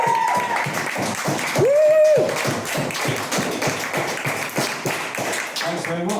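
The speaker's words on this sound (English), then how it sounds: "Give him a big round of applause." Audience applause welcoming a stand-up comedian to the stage, steady dense clapping throughout with a whistle or cheer rising briefly in the middle.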